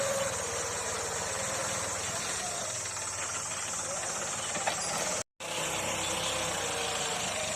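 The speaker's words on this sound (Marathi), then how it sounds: "जॉन्डियर ट्रॅक्टर आहे" A John Deere tractor engine runs steadily while ploughing a farm field, a constant broad droning hum with a faint hiss, outdoors, with a brief dropout near the end.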